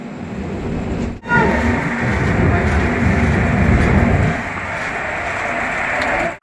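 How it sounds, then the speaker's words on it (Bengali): Steady roar and rumble of a passenger train running along the tracks toward Raniganj, heard from inside a carriage with constant rushing noise. "এখন আমাদের ট্রেন রানীগঞ্জের উদ্দেশ্যে রওনা দিল"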